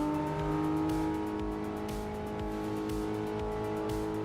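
Car engine revving loudly and continuously in a sim racing video game, a dense steady roar with repeated shifts and fluctuating pitch and no talking.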